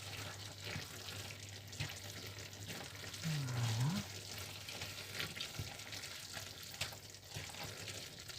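A meat-pie filling of minced meat with coriander, flat parsley and grated carrot simmers over low heat in a pan, giving a steady, even sizzle and bubbling throughout with no talking.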